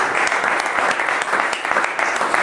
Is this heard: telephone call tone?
no